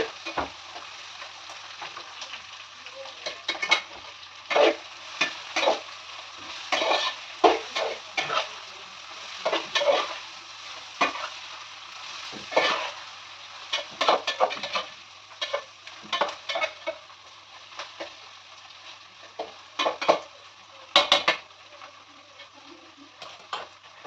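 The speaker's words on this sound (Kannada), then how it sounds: "ಒಂದೇ ಸತಿ ಬೆಳ್ಳುಳ್ಳಿ, ಶುಂಠಿ, ಪುದೀನ ಇಲ್ಲ ಸಾರಿ, ಗೋಡಂಬಿ ಇಷ್ಟನ್ನು ಹಾಕೊಂಡು ಹುರ್ಕೊತೀವಿ" Garlic, ginger and cashews fry in a pan with a steady crackling sizzle, broken by frequent stirring clicks and scrapes through the whole stretch, with no voices.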